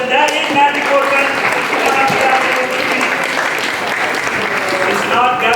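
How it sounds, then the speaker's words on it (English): An audience applauds two contestants at a quiz competition grand finale. The clapping is loud, sustained and even, with a crowd murmur and some voices mixed in. "Let's clap for both of them."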